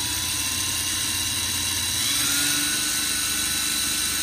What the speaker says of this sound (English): you just want to drill through this outer plastic material